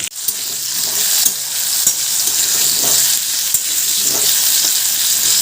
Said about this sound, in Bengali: এবার আলুটা ভালো করে লাল লাল করে ভেজে নেব